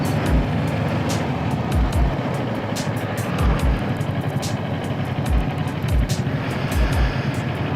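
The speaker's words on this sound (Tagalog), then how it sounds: "Traffic." Road traffic around a moving Ninja 400 motorcycle in the Philippines, heard as a steady broadband roar of engines and wind with repeated low thumps throughout, close and continuous.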